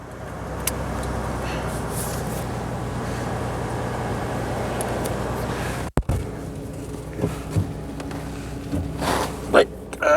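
A 1995 Ford F-150 engine runs with a steady low rumble for several seconds, cuts out abruptly, then continues quieter with scattered clunks and a voice speaking.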